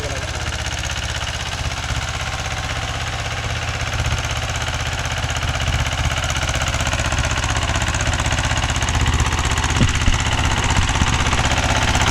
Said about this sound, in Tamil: இன்ஜின் ஒரே சீராக ஓடிட்டு இருக்குது